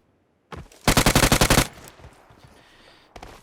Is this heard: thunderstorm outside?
no